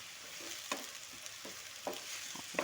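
Broad beans and tomato sautéing with garlic and onion, a soft steady sizzle with a few quiet scraping stirs, heard close and alone.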